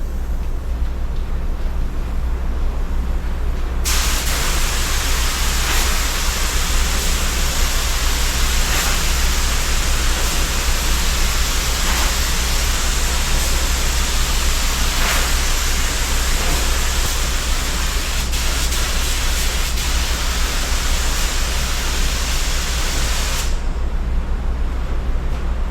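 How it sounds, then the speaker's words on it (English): A spray gun lays down a coat of clear coat paint: a loud, steady, close hiss that starts abruptly, runs unbroken for about twenty seconds, then cuts off, with no talking. "we're going to put on our first coat of clear coat."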